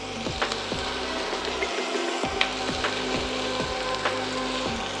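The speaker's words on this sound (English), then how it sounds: "Now I'm gonna go ahead and add the peppers." Peppers sizzling in a pan in andouille sausage grease for jambalaya, a steady close frying hiss with regular clicking taps and pops throughout, no voices.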